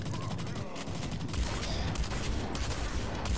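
Continuous gunfire from the video game Blacklight Retribution's Onslaught zombie mode, a dense fusillade of rapid shots running throughout, loud and steady with a slight swell midway.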